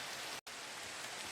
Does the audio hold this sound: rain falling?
yes